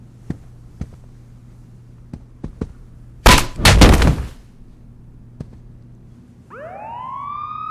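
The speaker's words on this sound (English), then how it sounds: "Sounds like the cops are coming, Mr. Sharp." Police siren in the 2006 Saints Row video game, rising up in the last second after scattered sharp knocks and a loud burst of rumbling noise, moderately loud with no talking.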